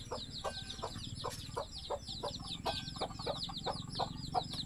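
Chickens cluck in quick, repeated bursts at a moderate distance, with a steady low rumble underneath the whole time.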